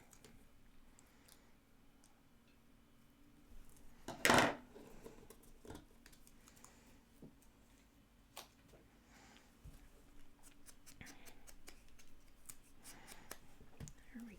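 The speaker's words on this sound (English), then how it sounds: "So let me see if I can just cut off the side that has a space to stamp on." A single sharp snip of scissors cutting off the edge of a paper card, close and crisp, followed by quiet handling and faint ticking in a still room.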